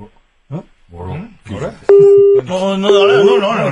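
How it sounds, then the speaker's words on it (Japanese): A telephone busy signal after a live phone call cuts off, sounding as repeated steady electronic tones in a regular on-off pattern, loud and close, with puzzled voices talking over it. "なんか電話切れちゃってんじゃん"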